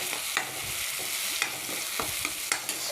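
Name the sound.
onion frying in oil with cumin and green chili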